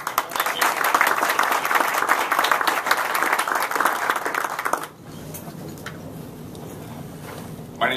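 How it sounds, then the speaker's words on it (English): An audience at a Rotary Club meeting claps loudly and steadily for nearly five seconds, then the applause cuts off abruptly, leaving a quiet room with faint background noise. "So we give one more round of applause for them."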